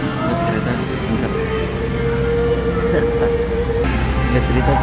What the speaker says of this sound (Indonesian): singkat cerita kereta ini datang ya